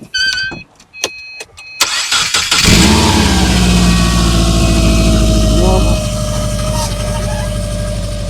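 A car engine is started during a battery starter test. A few electronic beeps come first, then the starter cranks briefly, the engine catches loudly up close, and it settles into a steady idle.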